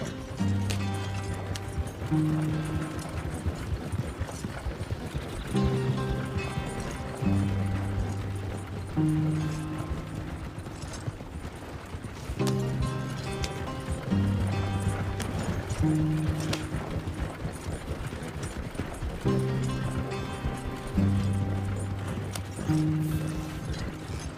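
A horse clip-clopping at a steady trot in the video game Red Dead Redemption 2, a loud rhythmic hoof pattern throughout with background music.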